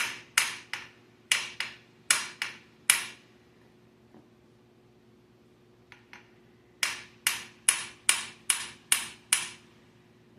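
A hammer taps a kingpin into the spindle of a 1966 Chevy Corvair straight-axle front end: sharp, close metallic knocks in two bursts of quick strikes, separated by a quiet pause with a couple of faint taps.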